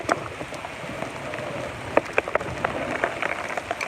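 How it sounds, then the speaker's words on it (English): Steady typhoon rain patters on a hard surface, with scattered louder drops tapping close by over a constant hiss; no one speaks. "oh, you love the rain, huh?"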